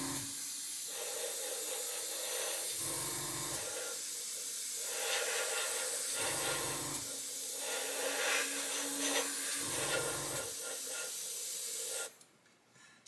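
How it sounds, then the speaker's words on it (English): An airbrush sprays paint onto a 1/35 scale model of the submarine CSS H.L. Hunley, producing a continuous close hiss broken by short rhythmic pulses and air bursts, then cutting off abruptly near the end. "I'm keeping the airbrush going without stopping,"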